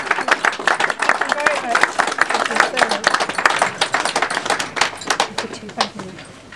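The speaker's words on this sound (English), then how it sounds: "Another round of applause for Mum." Wedding guests applauding in a reception room, dense sustained clapping from a crowd close by, loud and even before gradually thinning out near the end.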